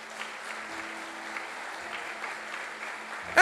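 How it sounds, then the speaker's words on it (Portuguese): Church congregation applauding during a sermon, a soft, continuous patter of many hands heard at a distance with a faint steady hum underneath, ending in a sudden louder thump. "pode aplaudir o Senhor"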